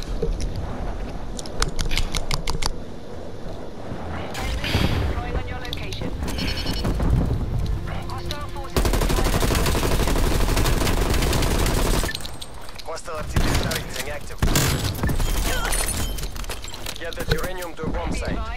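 Dense video game gunfire crackles in rapid bursts and sharp single cracks, including a sniper shot, loud and close, with players talking over the shooting throughout.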